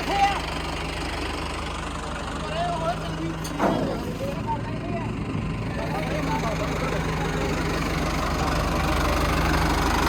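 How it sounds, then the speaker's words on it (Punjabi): A tractor engine idles steadily at night during fodder loading for a seva at Baba Bakala Sahib, a low continuous rumble running throughout under voices and background activity. "ਟਰੈਕਟਰ ਆਇਆ ਹੁਣ ਹੁਣ ਕਰਨਾ ਲੋਡ"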